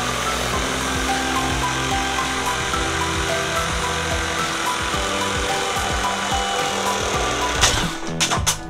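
A one-handed cordless reciprocating saw cuts through wood in a steady, continuous buzzing run under hard load, ending in a few sharp bursts as the cut finishes, with no one speaking.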